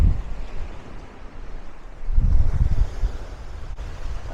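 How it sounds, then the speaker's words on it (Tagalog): Sea waves roll onto the beach at San Juan, Batangas, a soft wash of surf under wind noise, swelling into a louder crash midway before easing off. "Itong alon sa dagat."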